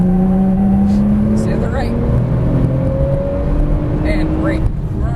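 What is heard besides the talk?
car accelerating at full throttle on a track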